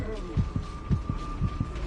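A slow, rhythmic heartbeat plays in Medievil Remastered for the undead hero, soft paired thumps repeating about every half second over a steady low hum.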